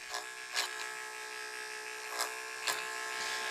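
Electric hair clippers buzz steadily and fairly quietly while cutting a guide in hair, with a few brief scraping bursts as the blades pass through.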